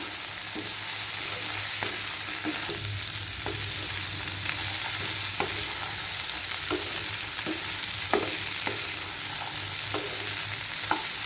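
Potatoes and peas frying lightly in a pan, a constant sizzle with regular spoon scrapes and taps every second or so, no talk.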